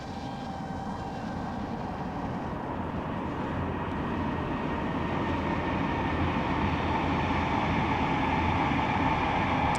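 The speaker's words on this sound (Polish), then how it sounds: "Pendolino, pięknie." A Pendolino high-speed train passes in freezing winter weather, heard as a steady, broad rumble and rush that slowly grows louder over the stretch with no voices.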